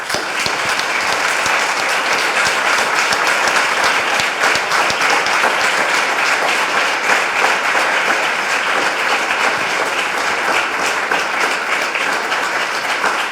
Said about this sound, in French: je voudrais qu'on lui rende hommage en l'applaudissant